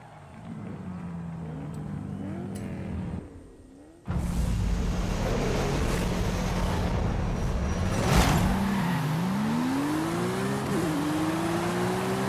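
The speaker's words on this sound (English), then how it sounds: "such a smooth 4-liter flat 6" A stock 4-liter flat-six car engine revs hard in Forza Horizon 5, idling briefly before a loud sustained roar with rising and falling sweeps as it shifts through gears, with no talking.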